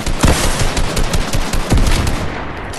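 Rapid automatic gunfire from a Fortnite match, dense bursts of shots crackling continuously with two heavier loud reports standing out, close and loud with no talk.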